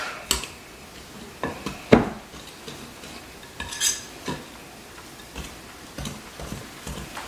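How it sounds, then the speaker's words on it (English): A spoon stirs sourdough ingredients in a bowl, scraping and clinking against the sides in a few sharp, separated knocks with quiet gaps between them. "now we're gonna go ahead and just stir this up"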